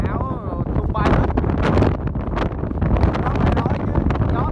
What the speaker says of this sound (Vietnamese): gió thổi đi bê người luôn á